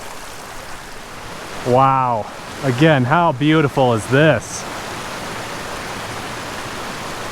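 Mountain creek flowing over rocks makes a steady, close rushing wash that runs the whole time, with a voice briefly speaking over it midway.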